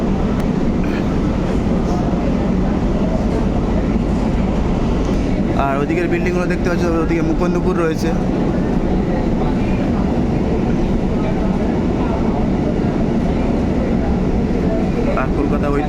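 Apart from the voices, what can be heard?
local train passing, heading to Sealdah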